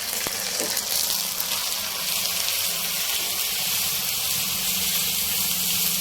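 Water goes into a pan where onion, ginger and garlic are frying for a home-cooked Odia feast. It makes a continuous hissing sizzle with a watery rush, fairly close and steady, with one sharp tap near the start and no speech.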